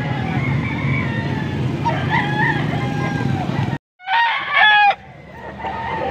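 Young six-month-old rooster (stag) crowing at a poultry auction, with clucking fowl and crowd noise behind; a loud, close crow cuts in near the end after a brief dropout.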